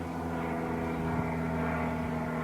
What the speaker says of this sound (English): Banner plane sans banner flying over.